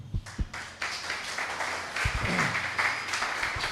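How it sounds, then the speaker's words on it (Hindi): A church congregation claps, a few sharp near claps at first, then scattered, moderate applause swelling and easing in uneven waves. "तालियों में कंजूसी है अभी भी।"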